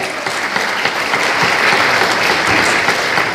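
Dense, loud audience applause at a civic forum on a Busan independence movement memorial park and history museum, continuous and steady throughout with no clear breaks.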